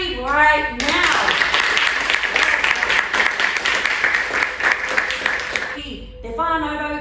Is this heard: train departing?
no